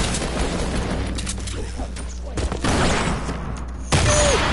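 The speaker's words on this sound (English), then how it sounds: "They spam grenade." Grenade explosions in the Fortnite video game burst out as sharp, loud blasts, one around the middle and a heavier one near the end, over a noisy game background with some talk.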